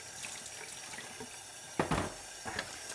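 Juicer parts are rinsed under a running kitchen tap, with a faint background hiss broken by a few louder gushing splashes of water hitting plastic near the end.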